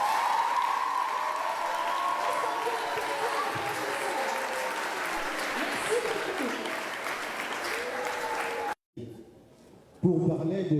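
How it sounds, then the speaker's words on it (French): Loud, sustained applause from an audience thanking their teachers fills most of the clip, then cuts off abruptly near the end before a brief burst of clapping and crowd noise returns. "nous voulons remercier nos professeurs en les applaudissant très fort"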